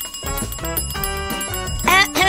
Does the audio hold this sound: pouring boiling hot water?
no